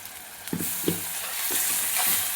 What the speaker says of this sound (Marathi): आता मसाला चांगला भाजून घेऊया पहिल्यांदा